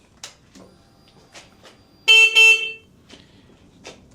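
The stock horn on a motorcycle gives two quick, close, high-pitched honks back to back, loud against an otherwise quiet background with a few faint clicks and knocks.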